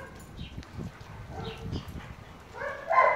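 A dog whimpers and gives short yips among a group of dogs gathered for socialization. The sounds are moderately close, with soft background noise and faint higher whines near the end.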